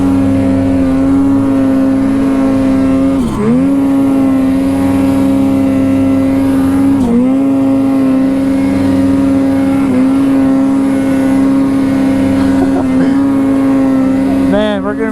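A Ski-Doo snowmobile engine drones loudly and steadily while riding, with a few brief dips and recoveries in pitch.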